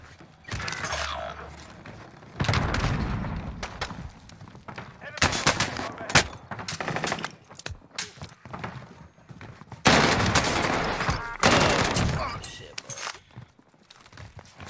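Rapid bursts of automatic gunfire and explosions from Call of Duty: Warzone on Rebirth Island, loud and dense, with shots clustered in heavy volleys, airstrike blasts and game effects, while a player talks over the action.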